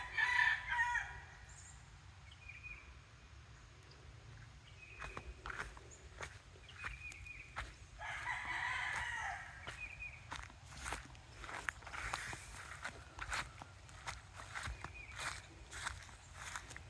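Chickens cluck softly at a distance while a rooster crows a few times, with footsteps shuffling nearby in a quiet outdoor setting.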